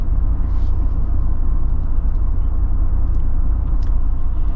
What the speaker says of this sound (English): But you get a lot of tire noise with this.